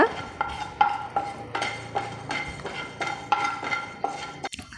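Dry rice is stirred and roasted in a pan for homemade Kerala sambar powder, with regular scraping strokes of a spoon against metal and the grains rattling and hissing softly, close and without talk.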